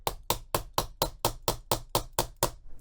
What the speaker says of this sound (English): I'm using this snap setter hammer, which is handy because it has different sizes of screws inside.